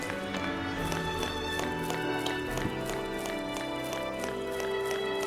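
Footsteps of characters in Final Fantasy XIII, a steady run of light rhythmic taps over continuous game music, close and fairly quiet.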